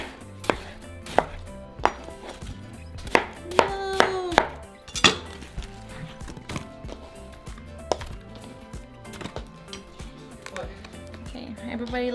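A knife chops a whole watermelon into pieces on a board. Crisp, close cuts land in uneven bursts, with a quick flurry in the middle, and a person talks between the chops.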